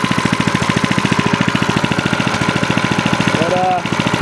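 An Ariens tiller fitted with a small Harbor Freight engine runs steadily at idle, its rapid, even chugging pulses continuous and close throughout, with a brief squeal partway through.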